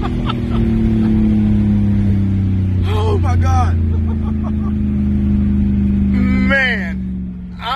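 A twin-turbo Audi RS4 of about 600 horsepower accelerates hard, its engine a loud sustained drone heard from inside the car, with excited voices and laughter breaking in over the top before the roar eases near the end.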